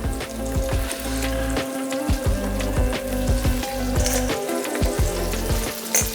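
Broccoli steaks fry in a pan with a steady, close sizzle broken by frequent small pops and crackles, and no one speaks.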